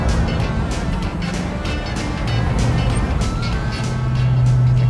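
A 1967 Pontiac GTO with a manual clutch, its engine and exhaust rumbling loud and close while driving, a steady throaty drone that swells toward the end, with no talk over it.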